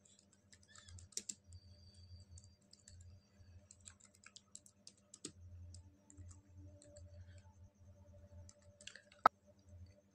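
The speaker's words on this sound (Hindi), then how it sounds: "कीबोर्ड से अल्टी बटन प्रेस कर सकते हैं" Typing on a computer keyboard during accounting-software work, with irregular bursts of soft clicks and occasional louder key taps, close and alone in a quiet room.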